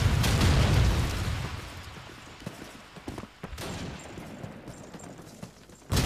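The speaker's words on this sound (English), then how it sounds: "He's going to toss out the nade towards that middle" Grenade tossed toward the middle of the map in a Call of Duty 2 France vs Slovenia match: a loud blast opens and fades, followed by scattered sharp gunshots and clicks.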